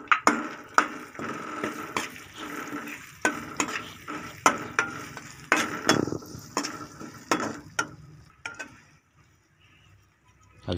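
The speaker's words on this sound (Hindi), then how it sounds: "इसको थोड़ी देर इसमें आपने भून लेना है ताकि इसका कच्चापन जो है वो ख़त्म हो जाए" Spiced potato filling sizzles in a pan while a spoon stirs and scrapes it in repeated sharp strokes, the frying fading toward the end.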